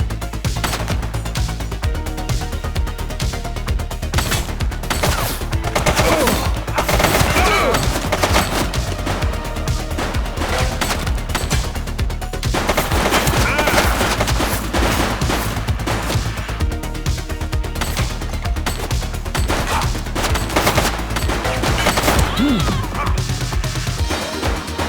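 Sustained gunfire rattles through a police action game, The Precinct, with rapid overlapping shots and bursts that stay loud and close across the whole stretch, with brief shouted voices between them.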